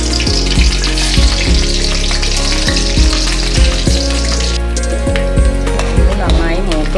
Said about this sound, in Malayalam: എണ്ണ നന്നായി ചൂടായി ഇനി നമുക്ക് ഇതിലേക്ക് എടുത്തു വെച്ചിരിക്കുന്ന അരിയും മുളകും ചേർത്ത് കൊടുക്കാം